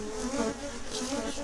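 Honey bees buzzing around hive boxes in Nahuatzen, Michoacán, a steady dense hum of many insects with no voices, holding constant throughout.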